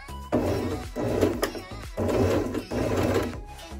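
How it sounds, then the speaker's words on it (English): Sewing machine stitching a fabric strip across the top of a doll sleeve, running in several short bursts with brief pauses between, close and moderately loud with no talking. "I'm basically just going to sew across the top"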